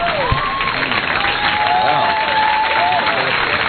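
Comedy-roast audience applauding and cheering in a club, the clapping sitting under a voice and tonal whistling or laughter, moderately loud and brief.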